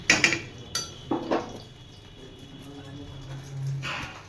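A metal lid clinks onto a pot of duck egg curry, with a couple of sharp clatters up front, then a quiet simmering background and a faint later rustle.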